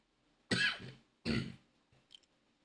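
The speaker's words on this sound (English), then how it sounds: "Still got a bit of a cough" Two sharp coughs from a person getting over COVID, close and fairly loud, separated by a short pause, followed by a faint throat sound.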